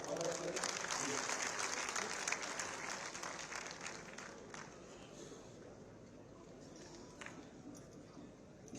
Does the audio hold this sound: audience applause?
yes